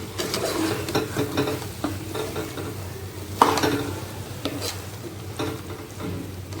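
Vegetable masala biryani mixture with lemon juice is stirred in a pan, a spoon scraping and knocking in repeated strokes over a steady close sizzle, with no one speaking.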